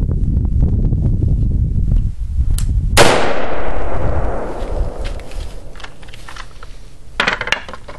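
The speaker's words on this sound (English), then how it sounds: "Next will be an AR-15 with a 55 grain full metal jacket." An AR-15 rifle fires a single 55 grain full metal jacket round into a typical wall, a sharp loud crack with a long decaying ring, amid steady background noise.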